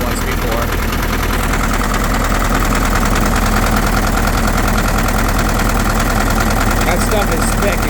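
A Case 580B tractor engine idles nearby with heavy blowby, giving a constant loud, rough knocking chug that continues unbroken throughout.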